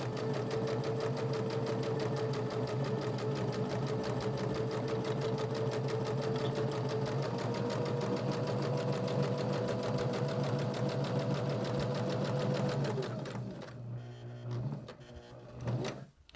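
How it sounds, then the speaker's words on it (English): A sewing machine stitches a band for a journal cover in one long, even, close run, sewing from top to bottom, then slows and stops with a few last short bursts. There is no talking. "I'm sewing all the way down from top to bottom"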